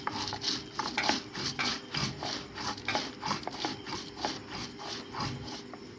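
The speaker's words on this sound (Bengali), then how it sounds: "দিয়ে দিচ্ছি কাঁচা লঙ্কা, উপরে লবণ। এবার আমরা ভালো করে বেটে নেব।" Green chilies and salt being ground on a flat grinding stone with a stone pestle: steady, rhythmic scraping and rubbing strokes, close and fairly loud, repeating evenly throughout with no talking.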